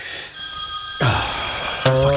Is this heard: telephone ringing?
yes